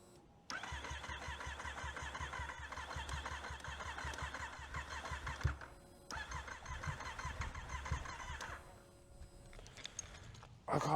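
A Yamaha MT-09 motorcycle starter cranks on and off in two long bursts, the engine turning over steadily but never catching, heard up close with a short pause between attempts.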